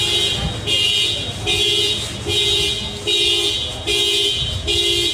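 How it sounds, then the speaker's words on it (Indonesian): A car alarm sounds loud and close at night, its electronic tone repeating in regular pulses over a steady background hum. "bunyi alarm nih. Kamu malam-malam dan tidur tiba-tiba dia berbunyi lo ini"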